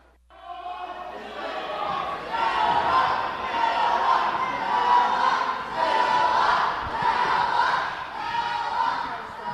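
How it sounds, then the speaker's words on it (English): A wrestling crowd cheers and roars in an arena during a match, loud, sustained crowd noise swelling in waves, with shouts and chatter mixed in. "You can hear the crowd getting behind Noah Walker"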